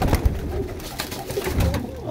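Pigeons coo in a loft among prized fancy breeds, soft low murmuring calls repeating through steady background rustle, with no talking.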